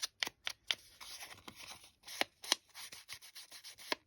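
Scissors trim a paper craft in a quick series of close, crisp snips and rustles, irregular short cuts with brief pauses.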